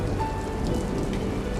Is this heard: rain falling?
yes